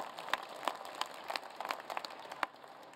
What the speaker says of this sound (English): That deserves a special round of applause.